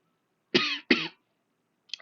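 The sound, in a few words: cough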